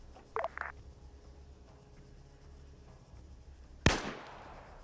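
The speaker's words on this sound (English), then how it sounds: "Oh, there's more shots." Gunshots crack in a hardcore military game set at COP Keating: a pair of faint distant pops early, then one sharper, louder report near the end, over quiet background hiss.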